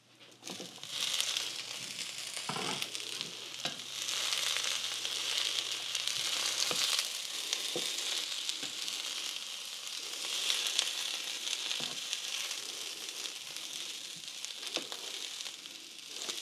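Drained green beans sauté in a hot skillet, with a fairly quiet but continuous crackling sizzle and occasional sharp pops and stirring scrapes throughout.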